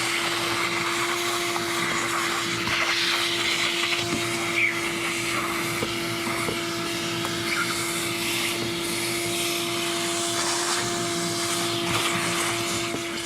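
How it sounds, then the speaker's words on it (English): A shop vac runs steadily up close, sucking dirt and debris out of a swamp-damaged Florida Corvette, a continuous droning whine with a constant hum and no talk over it. "I'm going to get a shop vac, clean this up before we get down to the sending unit."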